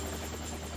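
A helicopter in a James Bond film scene with Roger Moore at a churchyard. It makes a steady, faint, distant rotor drone and engine hum for under a second, with no voices.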